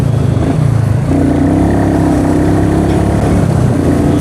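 A Royal Enfield Meteor 350 motorcycle engine runs loud and close, with a low thumping note that rises and shifts as the bike pulls away and settles into a steady rumble.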